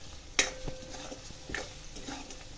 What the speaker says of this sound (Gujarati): મિક્સ કરી દઈશું